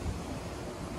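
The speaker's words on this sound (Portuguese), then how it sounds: "Tá ventando muito, ó." Outdoor wind buffets the microphone in a steady, loud, low rumbling roar with no pauses.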